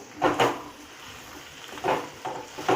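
Chicken liver fries in hot oil in a pan, with a soft sizzle under repeated scraping stirs. The spatula strokes land in short bursts, close and clear, with no talk.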